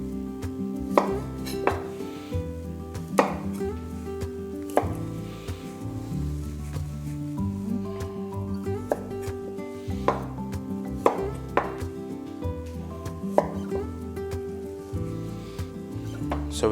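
A knife topping and tailing golden beets on a cutting board, with sharp, irregular chops knocking against the wood at a moderate, unhurried pace, fairly quiet and close.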